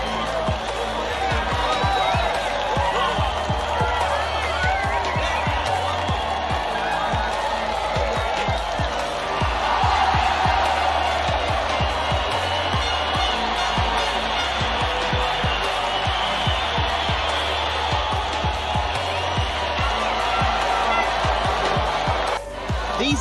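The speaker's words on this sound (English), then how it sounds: "The applause from the team and fans is definitely deserved." Crowd applause and cheering for the podium after a MotoGP 21 race at Circuit Argentina de Hondo, a steady dense wash of clapping and crowd noise with a voice talking over it.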